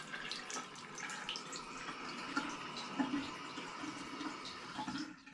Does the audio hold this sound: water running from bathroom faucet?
yes